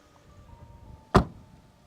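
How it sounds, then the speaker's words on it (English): A single solid thud as the door of a Mahindra XEV 9e electric SUV is shut, close and sharp against a quiet background, with a brief low resonance after the impact. "if you're interested in listening to the thud of the door"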